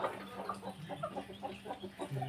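Backyard chickens, bantams and Rhode Island Reds among them, cluck in quick repeated bursts at moderate distance, a soft chattering rhythm with no voices over it.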